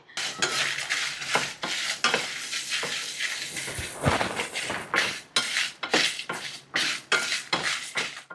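Ten dry red chillies and a tablespoon of black peppercorns dry-roast in a pan for a masala powder, with irregular scraping and clinking stirs over a soft hiss in short, uneven bursts.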